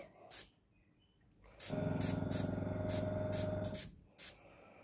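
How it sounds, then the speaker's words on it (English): Short hissing bursts of a spray can, then a sustained spray lasting about two seconds, followed by another brief puff, close by. "I don't really want to spray on top of the ship."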